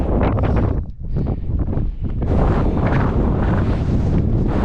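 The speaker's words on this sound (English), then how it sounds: "as you can hear, the wind is still pretty horrendous" Strong gusts on a Scottish mountain near Ben More and Stob Binnein buffet the microphone, a loud, roaring rush that surges and briefly drops before blasting again.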